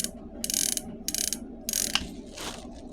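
Revolver cylinder rotated by hand, the cylinder hand clicking over the notched ratchet star: three crisp ratcheting bursts in a steady rhythm, close and fairly loud, with a fainter click trailing after, no talk.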